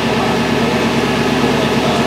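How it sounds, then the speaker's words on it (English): An LS-swapped 1954 Cadillac engine idling, a steady, loud, even drone with no one speaking. "It's idling."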